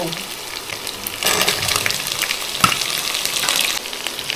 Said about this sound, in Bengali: এবার আমি চিংড়ি দেব তেলে এবার আমি